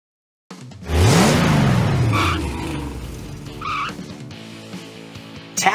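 A cartoon monster truck in a Blaze and the Monster Machines game revs with a rising and falling engine whine, then screeches and squeals as it rolls out. A second, softer squeal follows, and the game sounds are loud and close.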